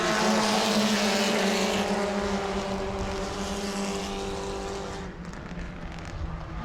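Race cars at New Smyrna on the final lap, several engines roaring together in a loud, sustained drone that slowly fades as the pack moves away.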